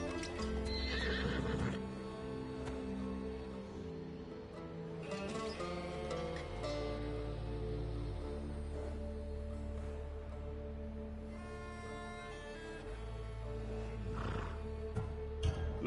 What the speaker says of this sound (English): Little do you know that this is Hades' horse.